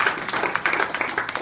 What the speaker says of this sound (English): Patty just retired, let's give her a round of applause